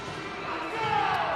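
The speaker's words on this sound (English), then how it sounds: "Listen to the crowd." Crowd at an indoor soccer game during a timeout, a broad steady roar from a packed arena that swells slightly toward the end, with a faint whistle-like tone rising through it.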